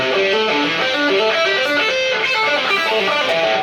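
Electric guitar played with string skipping and no muting, dense sustained harmonic notes ringing over each other with extra string noise, steady and loud throughout, no voices.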